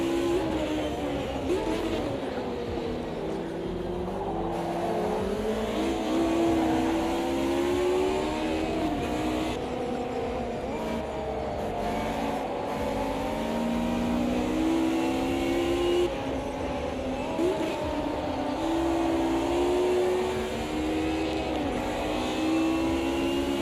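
Race car engines in the sim racing game Automobilista 2 whine and rev continuously, rising and falling through gear changes as several cars run close together, loud and sustained throughout.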